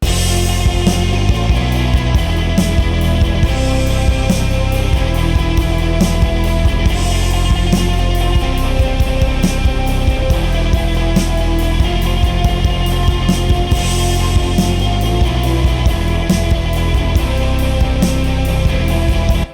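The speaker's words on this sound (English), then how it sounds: "the instrumental, if I take out the vocals in that chorus, sounds like this." Dense, loud full-band music from a chorus with the vocals removed: driving drums, thick bass and layered guitars and synths, playing continuously without any singing.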